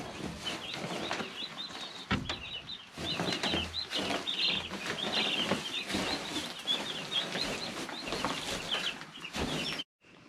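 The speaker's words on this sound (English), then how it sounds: "Let's go check on the chickens." Backyard chickens settling under heat plates at dusk, clucking continuously with bursts of wing flapping, fairly close, with no talk, ending in a sudden cutoff.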